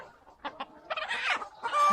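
A hen clucks in short, broken bursts, close by, with a few sharper calls rising toward the end.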